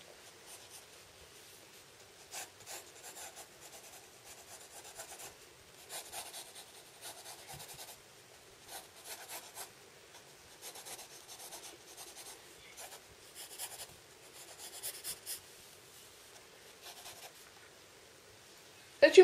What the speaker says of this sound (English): Then we're just going to draw the eyebrow.